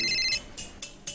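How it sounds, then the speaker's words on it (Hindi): A telephone rings with a bright electronic trill, followed by three more short ring bursts, fairly close with no voices. "फोन की घंटी बजते ही"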